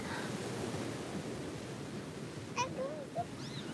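Steady wash of surf rolling onto a shore, a continuous broadband roar with faint bird-like chirps near the end.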